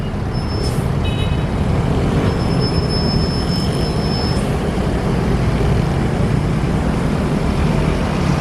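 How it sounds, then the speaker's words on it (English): Heavy vehicle noise rolls on steadily at a station as a bus pulls away, a continuous low rumble with brief high squeals and whines near the start, no talking. "Yep, there goes my bus."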